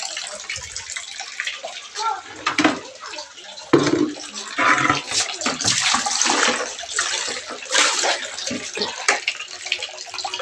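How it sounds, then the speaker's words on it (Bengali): Tap water pours steadily into a container, a continuous splashing rush that swells and shifts over about ten seconds with brief dips and surges, with no voices over it. "জল পড়ছে জলটা ভরে নেবো"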